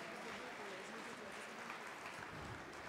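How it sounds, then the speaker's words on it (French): An audience applauds a cooking-contest candidate being introduced at a live culinary stage event, a steady, faint, distant patter of clapping lasting about three seconds. "Merci de l'applaudir très chaleureusement"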